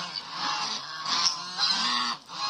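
Kars geese honk repeatedly at close range, a series of nasal calls overlapping one another in quick succession with no voices over them.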